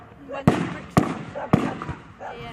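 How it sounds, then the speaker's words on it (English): At a World War 2 reenactment, mortars fire in three sharp, fairly distant thumps about half a second apart, each with a short rumbling tail, while someone talks throughout. "The American mortars are opening up on the German mortars."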